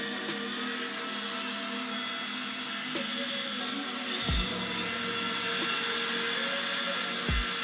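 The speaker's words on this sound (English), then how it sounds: "So now you just want to go back in with your fan or blow dryer." A steady, loud blow dryer whirs continuously up close over a synthetic wig, a constant airy roar with a few faint clicks and low thumps, no talking.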